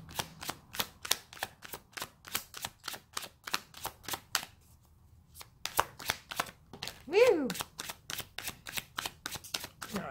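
Rapid riffling clicks of tarot cards being shuffled in quick repeated bursts, pausing briefly, with a short excited voice exclaiming near the end.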